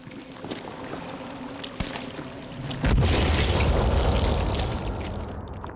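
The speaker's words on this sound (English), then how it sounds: "Alright, we are going to grenade you then." A grenade goes off in the survival game Sons of the Forest, a sudden heavy boom around the three-second mark that swells into a loud, rumbling roar and slowly fades.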